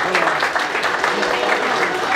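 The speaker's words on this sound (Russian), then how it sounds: "Аплодисменты, Витечка." Applause from a small audience at a club meeting of former mine workers, brisk clapping close by with a voice speaking briefly over it.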